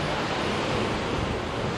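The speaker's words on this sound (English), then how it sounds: "it's really windy" Strong wind roars and buffets the microphone in a dense, continuous rush aboard a boat travelling from Fulton to Oswego, New York, with the surge of water mixed in close by.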